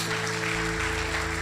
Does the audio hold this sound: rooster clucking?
no